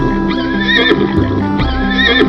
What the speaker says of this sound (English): Zebra.